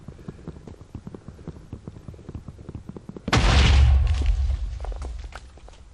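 A sudden loud boom of an explosion in the game Beyond the Void 2 erupts over light rhythmic tapping, then rumbles on and slowly fades.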